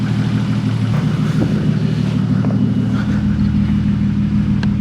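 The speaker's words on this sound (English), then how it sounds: "Here the idle is good." A Toyota MK3 Supra engine idles smoothly and steadily, a loud, close, even low drone with a constant throbbing pulse and no revving, after a crank position sensor and mass airflow sensor plug change.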